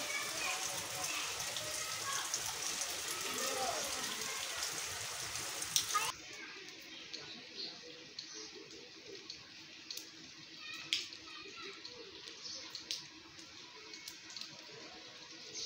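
Rain falls steadily outdoors in a soft continuous hiss. It is louder for the first few seconds, then drops to a quieter patter with scattered drips and light knocks.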